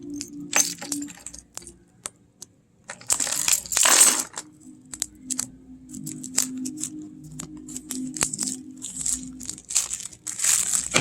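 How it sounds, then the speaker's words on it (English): Plastic wrap crackles and tears as it is peeled off a silver-gilded Under the Oak tarot deck, close and fairly loud, in bursts of crinkling with brief pauses and a few sharp snaps. "Let me get this plastic off here."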